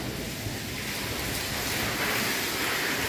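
Steady, broadband rushing of water pours continuously and loudly, like a strong flow gushing from a stainless steel tap after its spindle is changed, with no voices.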